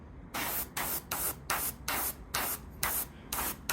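Airbrush spraying paint onto a 1/35 Leopard 2 AVLB scale model, aimed straight at a putty-masked edge: seven short bursts of hissing spray, each under half a second long, broken by brief pauses, close and steady.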